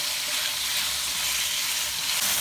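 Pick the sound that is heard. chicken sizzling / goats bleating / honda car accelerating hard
chicken sizzling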